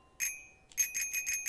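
A bicycle bell in Untitled Goose Game rings once, then again in a quick run of four or five bright metallic dings, close and clear with no talk over it.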